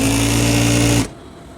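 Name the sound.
sewing machine stitching shalwar trouser seam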